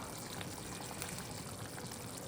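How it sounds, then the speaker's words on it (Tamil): Brinjal curry, an oily tamarind-style kuzhambu, bubbling at a strong boil in a pot; a continuous dense simmering hiss and bubbling, close and even, with no voice. "நல்லா கொதி வந்துட்டுருக்கு."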